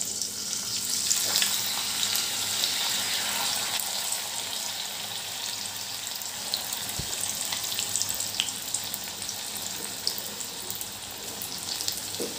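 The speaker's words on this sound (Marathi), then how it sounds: "बटाटे आपल्याला चांगले फ्राय करून घ्यायचे आहेत" Sliced potatoes with cumin seeds fry in oil, a steady moderate crackling hiss with occasional spoon taps and stirring, no voices.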